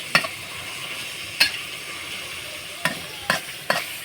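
Instant noodles with egg and pork are stir-fried, a low continuous sizzle broken by five sharp clanks and scrapes of the spatula against the pan at uneven intervals.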